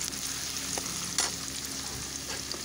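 Vegetables and chicken fry in oil for a brinjal chicken curry, giving a steady, moderate sizzle with a few soft stirring clicks and no talking.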